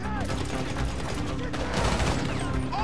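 Dense gunfire in GTA V Online on PS4, continuous overlapping shots from several weapons during a police shootout, loud and close, with people talking over it.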